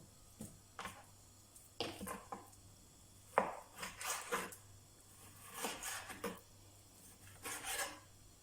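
A knife cuts meat into medium-sized pieces for shashlik, making quiet, separate rasping strokes and soft thuds in an uneven rhythm, close by and faint, with no one speaking.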